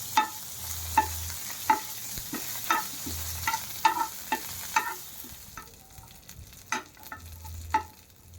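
Cumin, chili, curry leaves and garlic sauté in ghee for kokum saar, with a soft background sizzle and a series of sharp, regular clinks and scrapes from a spoon stirring in the pan.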